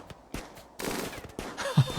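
Gunfire in the video game Rimworld comes as a scatter of short, sharp cracks and bursts of moderate loudness over about two seconds.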